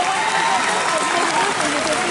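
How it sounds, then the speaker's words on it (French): A festival audience applauds a performing duo at a convention stage show, with dense, steady clapping and crowd noise filling the whole stretch. "On les applaudit très fort, allez!"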